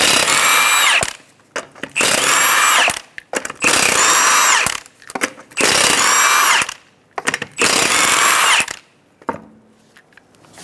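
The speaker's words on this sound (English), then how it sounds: "Using a 21mm socket, we're going to remove the 5 lug nuts." An impact gun with a 21mm socket spins off the five lug nuts on a 2007-2012 Nissan Altima wheel in five loud, close whirring bursts of about a second each, with short gaps between them.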